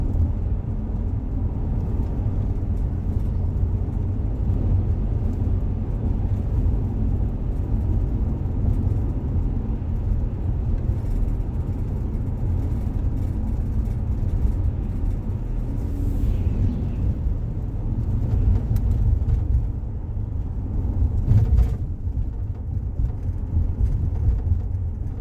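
Inside a car on a forest road in Lincoln National Forest, New Mexico, a steady low engine and tyre rumble drones for the whole stretch, loud and even with no talking.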